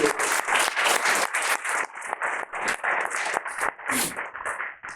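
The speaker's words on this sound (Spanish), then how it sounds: "Un aplauso por el Señor." Church congregation clapping in a burst of applause during a worship service, dense and near at first, then thinning into scattered claps with brief gaps.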